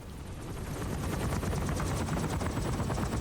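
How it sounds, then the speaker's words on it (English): A helicopter in the video game Metal Gear Solid V: The Phantom Pain drones loudly and continuously with dense rotor chop and a broadband roar that fills the clip, with no talk. "That helicopter's loud."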